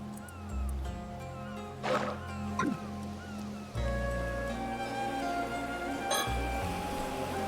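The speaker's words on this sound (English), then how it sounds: "The sound of the waves and the buzz from the onlookers fills the air around us" Ocean waves wash steadily beneath a murmuring crowd of onlookers in a mystery video game, with faint clinks and a layered synthetic drone, continuous and moderately loud.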